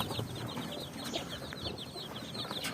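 Chicks peep steadily inside a DIY brooder, some of them cold with dirty wings. The quick, high cheeps repeat in a dense, overlapping chorus close by, over a constant low rustle.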